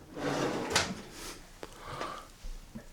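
A drawer aboard a 24-metre fast trawler yacht slides open and shut in a quiet cabin, giving a few close, sharp wooden knocks and scrapes.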